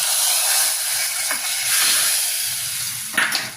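A hot tempering of fenugreek, mustard seeds and dried red chilli is poured into a curry, and a loud hissing sizzle rises at once. It steadily fades over a few seconds, with a brief clatter near the end and no talking.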